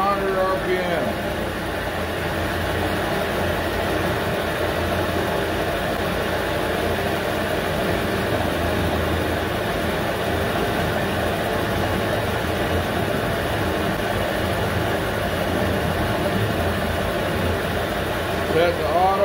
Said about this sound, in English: Let's run the spindle at 800 RPM.